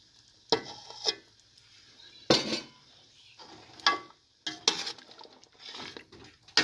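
Yogurt going into a pot of chicken biryani and being stirred, with several loud spoon scrapes and clanks against the metal pot at uneven intervals, close by, with no talk.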